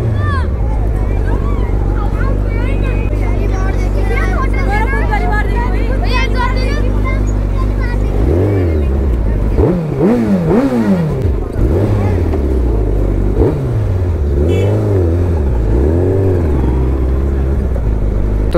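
Superbikes fitted with loud aftermarket exhausts rev hard in a large police-escorted rally, throttle blips rising and falling in bursts under a steady engine rumble, with someone talking over it and wind buffeting the microphone.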